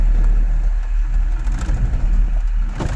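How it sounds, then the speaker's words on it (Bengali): A car engine drones steadily while driving along a road, a close, continuous rumble with slight swells and dips and no voices. "আর এই চলছে আমার গাড়ি।"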